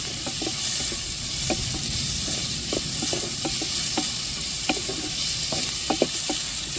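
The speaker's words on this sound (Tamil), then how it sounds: "வெங்காயத்தை வந்து ரொம்ப வதக்க வேண்டாம்" Onions sauté in a pan for a fish curry, a steady sizzling hiss with occasional stirring scrapes and clinks of a spoon against the pan, close and continuous with no voices.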